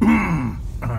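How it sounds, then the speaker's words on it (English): A man clears his throat once, with a short, rough, voiced rasp close to the microphone, followed by a brief breathy tail. "I gotta clear my throat."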